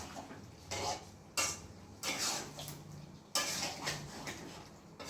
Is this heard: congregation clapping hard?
no